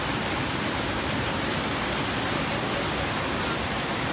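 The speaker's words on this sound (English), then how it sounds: "Thankful we didn't get stuck out in this rain today" Steady, dense rainfall hisses loudly and evenly throughout, close and unbroken, with no voices.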